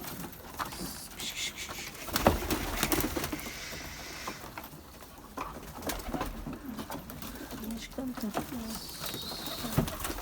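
Soft pigeon coos repeat in the background amid rustling, clatter and other bird noises, with no clear talk over them.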